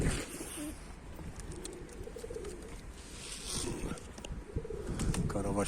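Domestic pigeons cooing in a loft, low repeated coos mixed with scattered chirps and rustling, with a voice speaking faintly at times over a steady background hum.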